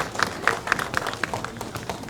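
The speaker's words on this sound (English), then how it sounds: "we just want to give him a big round of applause" Scattered hand claps from an audience at a fire department gathering, a few distinct claps in a loose rhythm, close and fairly light.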